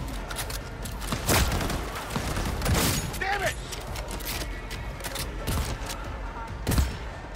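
Gunfire in Cyberpunk 2077 2.0 with Phantom Liberty, repeated sharp shots and short bursts during a firefight, fairly close, with voices speaking between the shots.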